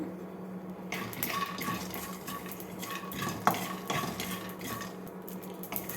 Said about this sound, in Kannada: ಈಗ ಇದಕ್ಕೆ ಒಂದು ಅರ್ಧ ಕಪ್ಪಷ್ಟು ಕಡಲೆಕಾಯಿ ಬೀಜ ಮತ್ತು 1 ಚಮಚ ಅಷ್ಟು ಗಸಗಸೆ ತೊಗೊಂಡಿದ್ದೀನಿ. ಇದನ್ನು ಚೆನ್ನಾಗಿ ಹುರ್ಕೊಳ್ಳೋಣ